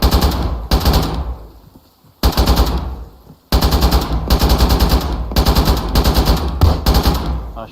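Arma 3 gunfire rattles out in loud, close automatic bursts, several sustained strings of rapid shots broken by brief gaps, with no talking.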